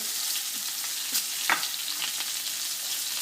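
A steak sears in a hot pan with a steady, close, loud sizzle, while a few faint knocks and scrapes pass through it and no one speaks.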